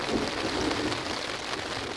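Steady rain pouring on surfaces outdoors during an afternoon thunderstorm on a wilderness river canoe trip, a dense continuous hiss at moderate level with no distinct thunderclap standing out.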